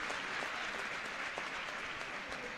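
Spectators at a national under-17 women's futsal match between Galicia and La Rioja applaud an injured La Rioja player, a dense, steady wash of clapping filling the hall throughout.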